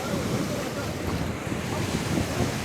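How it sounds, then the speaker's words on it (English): Pacific Ocean surf rolling onto a narrowing beach in Rosarito, a steady broadband wash of breaking waves with wind rumble buffeting the microphone, continuous and fairly loud throughout. "the ocean is getting a little bit closer and closer"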